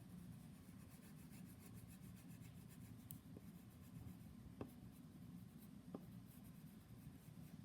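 Blue oil pastel shading across paper makes a steady, dry rubbing scratch that continues without pause, with a few faint taps, close up and without talk.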